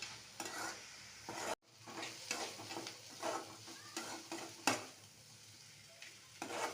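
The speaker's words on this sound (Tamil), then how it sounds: "நல்லா பொன்னிறம் வர வச்சு நல்லா வதக்கிக்கலாம்" Onions sautéing in a pan for kuzhi paniyaram with coconut chutney, a steady close sizzle broken by several scraping stirs of a spoon against the pan, with no talking.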